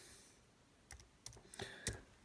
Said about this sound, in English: Typing R4B in for search.